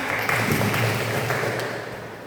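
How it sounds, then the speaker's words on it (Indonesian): Audience in a school guidance session clapping steadily as a crowd, dense applause that holds for a couple of seconds and tapers slightly, with faint voices mixed in. "Boleh tepuk tangan?"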